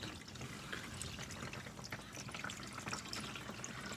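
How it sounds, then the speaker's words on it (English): Engine oil drains from a car through a Fumoto F108S drain valve, making a steady, continuous trickling pour of liquid at a fairly low level with no interruptions. "While the oil is draining out"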